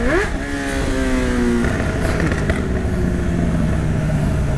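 A Honda CB1000 motorcycle engine revs and shifts through gears nearby, its pitch climbing and dropping as it rides along loudly.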